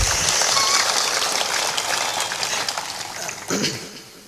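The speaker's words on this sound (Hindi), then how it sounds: "जोर से ताली बजाओ" A crowd at a Hindi spiritual discourse by Sant Shri Asang Dev Ji claps loudly, a dense wash of applause that fades slightly toward the end, with a brief louder burst near the close.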